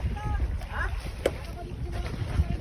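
Service boats arrive at sea near fishing boats as dusk falls, a low engine rumble mixed with wind buffeting and faint splashes, with muffled voices talking in the background.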